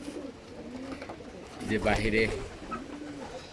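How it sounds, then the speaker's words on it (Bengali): Male racing pigeons coo softly in a loft, low burbling calls rising in the middle of the clip, heard under someone talking. "এই যে দেখতে পাইতেছেন এবারের আমার মেল কবুতরগুলা"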